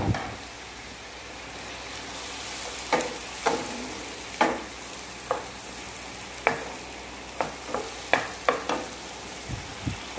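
Carrots stir-frying in a pan for a vegetarian sweet-and-sour egg dish, a low steady sizzle with irregular sharp scrapes and taps of a spatula against the pan, close and without talk.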